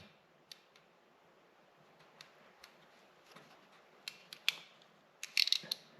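Faint sparse clicks of a ratcheting crimp tool squeezing a closed-end wire connector, scattered at first and then a quick cluster of sharper ratchet clicks near the end, quiet and close in an otherwise still room.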